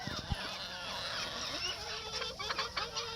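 Old hens calling in a backyard flock between rain showers, a continuous mix of clucks and honk-like squawks close by, several birds at once over steady background noise.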